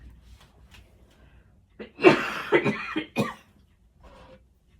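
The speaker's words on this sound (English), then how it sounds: "Sorry about the cough." A short burst of several harsh coughs close to the microphone, preceded and followed by quiet, faint sounds.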